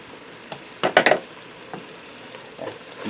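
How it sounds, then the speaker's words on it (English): Ground cumin and chili powder being stirred into a cowboy casserole in a Ninja Speedi, with a quick cluster of scraping spoon knocks against the pot and a few lighter taps after, over a quiet background. "Mix that around while I'll get the seasoning all blended through."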